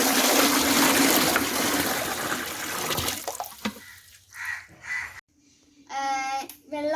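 Water poured into a guppy tank gives a steady, loud splashing and gushing pour that tapers off, followed by short bursts of a voice and other speech.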